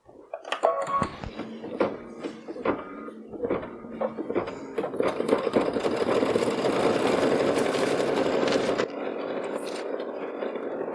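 An embroidery machine stitches a color onto a greeting card: rapid mechanical needle clatter that starts as separate taps, then settles into a steady continuous whir before easing slightly, close and fairly loud.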